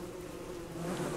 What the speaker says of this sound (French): À part des abeilles.